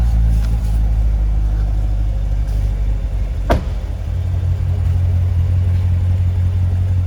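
A 2018 Chevrolet Corvette Grand Sport engine idles with the exhaust open, a deep, steady rumble, close by and loud, with a brief sharp click partway through.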